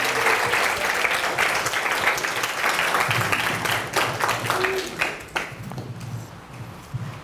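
Sustained applause and cheering from a Korean church congregation at a year-end revival meeting, a dense wash of many clapping hands that stays steady before thinning near the end, with faint voices mixed in.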